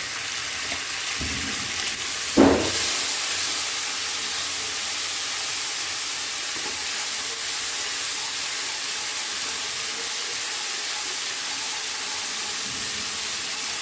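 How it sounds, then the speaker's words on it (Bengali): Ginger paste and turmeric powder fry in a pan with a constant, even sizzling hiss that stays close and steady throughout, marked by a couple of soft knocks near the start. "আদা বাটা দিলাম, একটু হলুদ গুঁড়ো দিই যাতে আদাটা না ছিটিয়ে যায়।"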